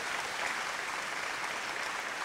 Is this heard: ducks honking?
no